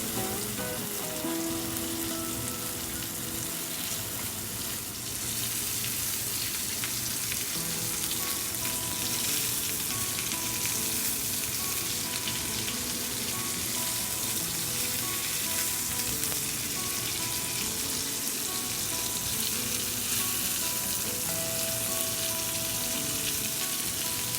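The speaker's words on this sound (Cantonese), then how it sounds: "再慢慢煎到四邊金黃。" Tofu hamburger patties pan-fry slowly until golden on all sides, giving a steady, close, even sizzle that runs unbroken and alone throughout.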